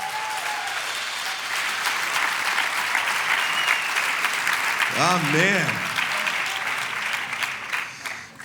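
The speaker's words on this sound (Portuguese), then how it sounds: "Agora é que podemos dar uma salva de palmas como deve ser a Deus." Church congregation applauding steadily throughout, with a voice speaking briefly over the clapping.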